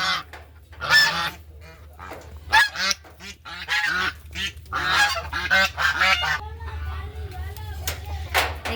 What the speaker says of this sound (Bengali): আমার খামারের রাজহাঁস।